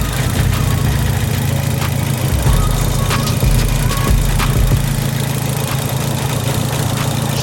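A car engine idles while warming up after an aluminum radiator was patched with Quiksteel, giving a loud, steady, rough low rumble with light vibration and no break throughout.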